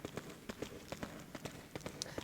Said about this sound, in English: All of our footsteps.